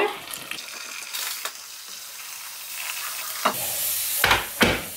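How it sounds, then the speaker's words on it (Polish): Boiling water pours steadily over young broccoli with a soft hissing splash, ending in a couple of sharper splashes and clinks. "zalewam je od razu wrzącą wodą."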